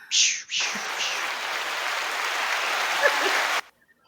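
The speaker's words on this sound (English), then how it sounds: "it sounds like applause." Burst of applause from a crowd, a dense, even wash of clapping that starts abruptly, holds steady for about three seconds and then cuts off, with a brief sound at the very start.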